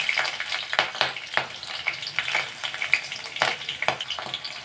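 Cloves, bay leaves and green chilies frying in oil for a tomato kurma, a steady close sizzle broken by repeated sharp crackles and pops of spluttering spices, with no talk.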